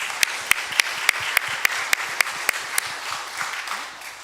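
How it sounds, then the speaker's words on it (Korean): A church congregation applauds during a Sunday service, steady, ringing claps from a few hands close by, gradually fading toward the end. "네, 이건 박수 한번 더 치겠습니다."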